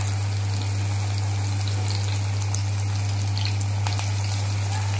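Chicken pakora deep frying in hot oil, Andhra style: a continuous bubbling sizzle with fine crackles over a steady low electrical hum, with no voices.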